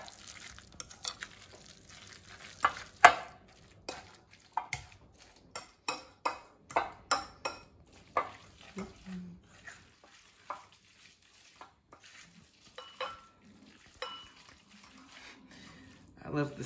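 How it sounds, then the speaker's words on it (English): Repeated soft scraping and clicking of a fork stirring thick tuna salad in a bowl, irregular strokes close by, with quiet talk in places. "just take a fork and mix it all up"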